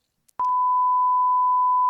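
A single censor bleep cuts through a casual podcast conversation about professional cycling: one steady, loud electronic tone held for about a second and a half, alone, with a sharp start and stop.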